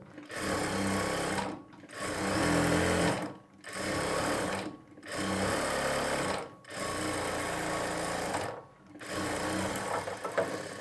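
Sewing machine stitching a lining onto sleeve fabric, running in five steady bursts of continuous whirring, each a second or two long and separated by short pauses, close and fairly loud with no talking.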